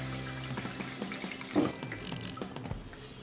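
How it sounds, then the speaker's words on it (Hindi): Water pours steadily into dal and rice in a cooking pot for yellow khichdi, a continuous filling splash with a brief louder gush partway through. "तो हम पहले 3 कप इसमें पानी डालेंगे।"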